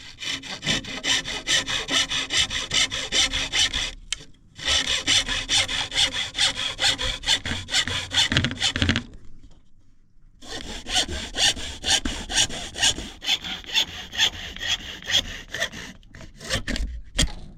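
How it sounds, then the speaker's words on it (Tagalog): Steady back-and-forth hacksaw cutting through bamboo, close and loud, continuing in long runs with a couple of brief pauses between strokes. "Lagaring bakal, kaya ito yung ginamit natin mga kabisig para hindi mabaak yung ating kawayan"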